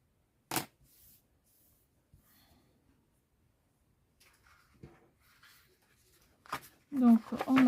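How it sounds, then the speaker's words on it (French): Card stock scored along fold lines on a punch board for a handmade camera-shaped card: a few sharp isolated clicks and scrapes separated by quiet, with a short spoken remark near the end. "Donc, on marque les plis."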